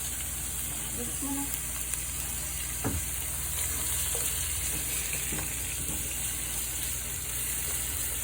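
Chorizo and mushroom hiss in a pan for pasta, a steady broad sizzle with occasional soft stirring knocks and a faint voice in the background.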